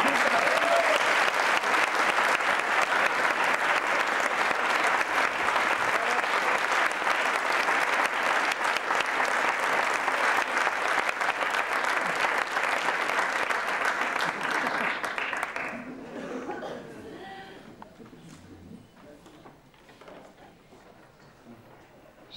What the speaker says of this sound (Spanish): se queren aplaudir agora cando entre Susín Casiotone